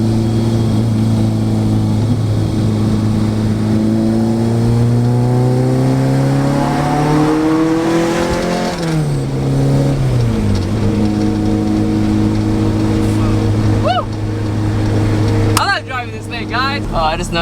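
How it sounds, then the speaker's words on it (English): Honda B/D-series engine fitted with individual throttle bodies roaring at full throttle in a shifter car, loud and close, pitch climbing through the revs, dropping at a gearshift, then pulling again, with brief voice at the end. "now I can full throttle, and you can just hear those ITBs fucking roar"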